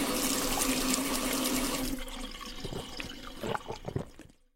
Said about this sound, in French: si on buvait un grand verre d'eau du robinet